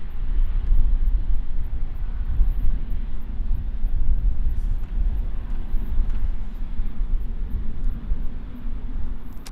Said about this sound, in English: A320 just lining up there.